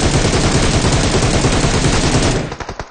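Gunfire in PUBG Mobile comes as rapid automatic bursts of loud, close, rhythmic shots that run almost continuously before thinning into a few separate cracks at the end.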